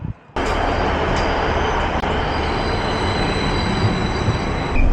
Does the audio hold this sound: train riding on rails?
yes